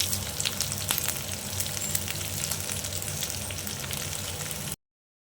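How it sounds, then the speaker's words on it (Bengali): Onions frying in hot oil for mutton biryani crackle with a loud, steady sizzle and scattered pops throughout, ending abruptly in silence; no voices. "তো বিরিয়ানির জন্য লাল করে ভেজে নেব।"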